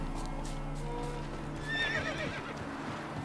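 The horse Roach in The Witcher 3 whinnies once in a rising, wavering call, alongside a steady patter of hooves and a low game soundtrack drone, with no voices.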